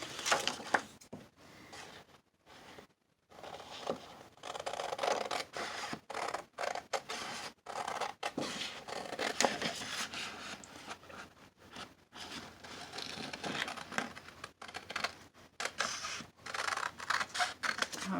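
Scissors cut out paper for a handmade Easter card, giving a steady run of quiet, close snips and crisp paper rustles, with no talk over them.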